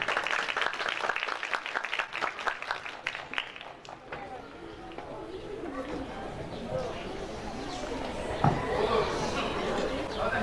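An audience at a primary school graduation ceremony claps: a patter of scattered claps at first swells into a dense, steady crowd applause, with murmuring voices underneath.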